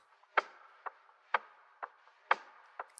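Sparse, soft percussive lo-fi ticks and light hi-hat taps repeat at a slow, steady pulse of about 60 BPM, dry and quiet with gaps between the hits.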